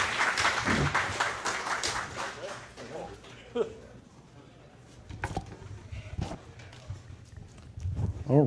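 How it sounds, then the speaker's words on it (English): A brief burst of audience clapping for two panelists at a Tampa tour stop event, loudest at the start, then dying away into quieter scattered room noise. "How about a round of applause for Paul and Grant?"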